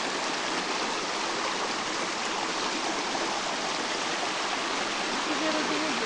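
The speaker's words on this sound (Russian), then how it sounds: "Маленькое родниковое озеро. Лесное." Cold spring-fed forest lake in the Tatras, its water trickling and burbling in a steady, continuous wash close by, with faint voices underneath.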